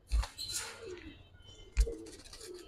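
Giribaz pigeons of silver colouring coo softly at close range, with low murmuring calls and two brief louder thumps in a quiet coop.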